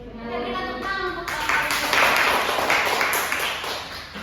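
Classroom clapping at a university microteaching competition, a burst of hands joining after a spoken opening and swelling into steady, moderately loud group applause; children's voices are also present.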